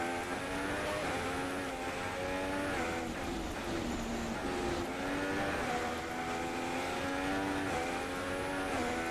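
A Formula 1 car's engine screams continuously in the F1 2016 racing game at Monza, holding a loud, steady high-revving drone with small pitch shifts as it shifts gears and accelerates, close and alone without talk.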